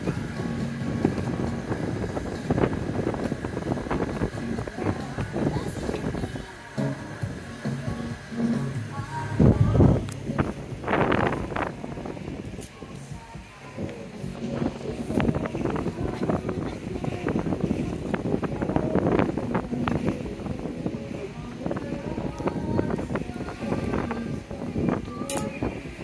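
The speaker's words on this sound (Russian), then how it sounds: "Ветер, наверное, сильный, да?" Gusty wind rumbles and buffets the microphone steadily throughout, with people talking faintly underneath, on the Chao Phraya River.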